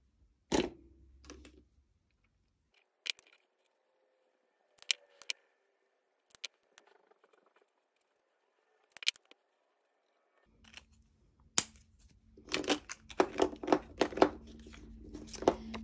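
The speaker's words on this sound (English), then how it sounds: "So now I'm going to use my scissors and I'm going to fussy cut him out." Quiet, scattered snips of scissors, then a quicker run of crisp cutting sounds on paper near the end, close up and with no talking.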